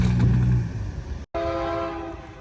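A train in India rumbles past on a siding beside the main track, its low horn droning close and loud before a brief cut, then steady rail noise with ringing tonal hum continues.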